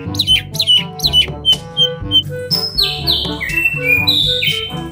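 An Oriental magpie-robin, a mini kacer, sings loud, close whistled phrases and chirps, with bursts of repeated notes followed by sweeping descending whistles.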